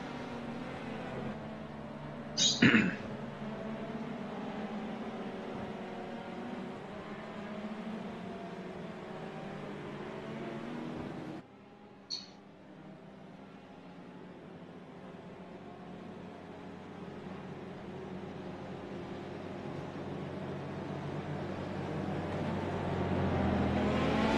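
Engines of race cars in a league for drivers over sixty drone steadily from a distance, a low continuous buzz with one brief sharp knock early on and a sudden drop in level partway through.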